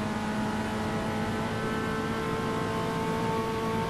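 Race car engines accelerate in the video game Automobilista, with Gol cars running at Curitiba. A steady, droning engine whine with tonal harmonics holds at moderate level, continuous and without breaks, and no one talks over it.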